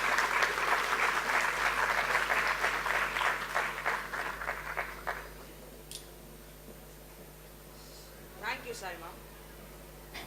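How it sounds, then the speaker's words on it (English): Audience at a school annual function applauding the chief guest, a strong round of clapping that thins to scattered claps and fades out midway, leaving quiet room tone with a few faint sounds. "Let's give a big round of applause for Ms."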